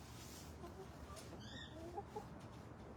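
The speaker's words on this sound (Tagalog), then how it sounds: "Maganda tong manok natin, mga kaibigan." A farm chicken clucks softly in a quiet setting. A few short, faint clucks and one brief squawk are scattered over low background noise.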